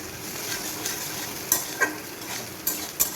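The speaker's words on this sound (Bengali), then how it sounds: "আমার তেল গরম হয়ে এসছে, আমি এখন দিয়ে দেবো ফোড়ন আর কেটে রাখা পেঁয়াজ কুচিটা দিয়ে দেবো।" Chopped onion and whole spices frying in hot oil, a steady close sizzle with a few sharp clinks of a spoon or spatula against the pan.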